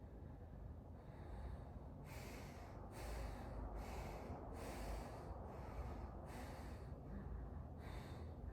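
A person breathes in and out in a rhythmic breathing exercise, with about seven sharp, fast breaths spaced roughly a second apart, close and moderately loud over a low background rumble.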